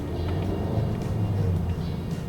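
Honda Civic Type R with a 2.0-litre turbo engine accelerating in comfort mode, giving a steady low engine drone heard from inside the cabin, fairly loud and continuous with no talk over it.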